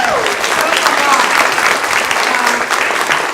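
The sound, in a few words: audience applause for forum candidates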